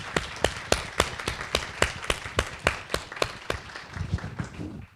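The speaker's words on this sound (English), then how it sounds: "Let's give Eli a round of applause" A small audience gives a round of applause for a Pulitzer Prize-winning alum, Eli Murray, at a Q&A event: distinct, fairly sparse claps in a loose rhythm, close and moderately loud, thinning out near the end.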